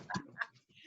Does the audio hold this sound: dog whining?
yes